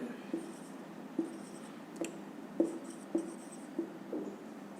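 Chalk or marker taps and scrapes on a board during a math lesson, a series of about seven short, evenly spaced strokes, moderately loud over a quiet room hum.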